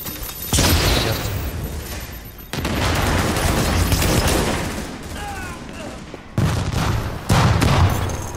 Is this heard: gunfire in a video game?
yes